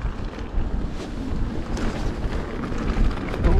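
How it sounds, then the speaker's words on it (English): Strong wind on a hilltop during a mountain bike trail ride at Cannock Chase buffets the microphone in steady gusts, a continuous loud rushing roar with no voices. "Oh, windy at the top of this bit"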